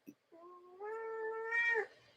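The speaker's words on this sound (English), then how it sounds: "Now we have cat noises." A silver-gray and white pet cat named Mono gives one drawn-out, rising meow that swells into a louder, strained wail near the end, close and clear with no other sound around it.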